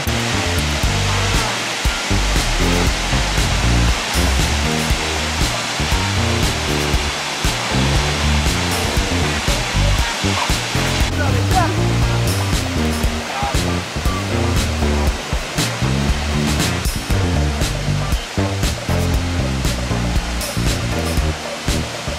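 A waterfall in Norway gives a loud, steady, close rushing roar of falling water that fills the whole stretch without pause.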